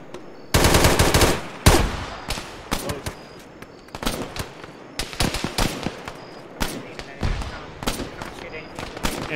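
Intense automatic and single-shot gunfire in the military video game Arma during a ShackTac session, loud close bursts and scattered cracks throughout, with voices talking underneath.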